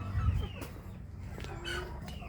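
Several chickens cluck close by in short, uneven calls that carry on steadily with no voices over them.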